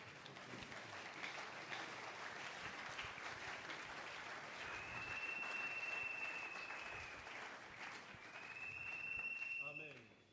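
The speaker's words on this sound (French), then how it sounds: "nous acclamons très fort pour le Seigneur" A church congregation applauds and cheers loudly for the Lord, with sustained clapping and raised voices and a whistle-like tone cutting through the crowd noise.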